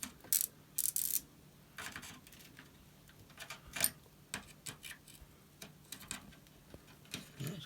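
A large TED chip being pried out of its socket on a Commodore 16 home computer during a repair, heard as a scattered run of small close clicks, creaks and scrapes of varying strength.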